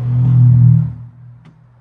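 A low electronic tone hums briefly as a Mercedes-AMG EQE 53 electric car locks, then fades, followed by a single short click.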